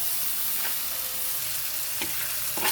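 Onion and spice paste sizzles steadily in a pan with a splash of water, with a few soft scraping stir strokes cutting through the constant frying hiss.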